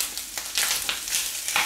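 Spring onions hit a hot pan of frying liver and mushrooms in oil or clarified butter, giving a steady close sizzle with bursts of hissing and a few soft stirring scrapes, no talk.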